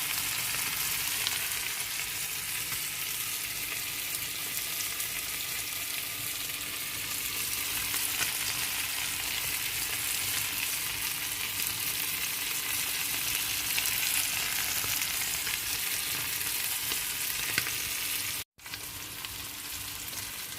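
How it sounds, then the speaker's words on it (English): Constant, even sizzling of steak frying in butter in a hot pan, a dense crackling hiss that barely changes, close up, with no talking. "just listen to that butter and the steak frying"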